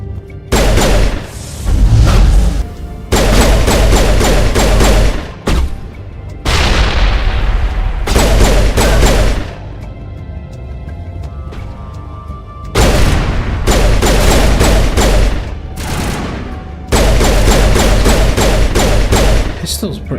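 Repeated bursts of pistol gunfire from Mass Effect come in loud rapid volleys with short gaps between them, mixed with heavy combat booms.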